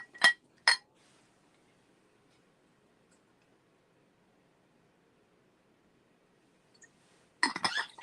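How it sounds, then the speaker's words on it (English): Two quick clinks of a drinking glass near the start, then a long quiet stretch, ending with a burst of glassy clattering and handling noise as a glass of water is taken. "Just need to take a glass of water."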